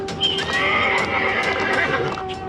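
A cartoon horse whinnies loudly in a long, wavering neigh, with clip-clopping hooves beneath it, close and continuous, in an animated Hindi story about bandits on horseback.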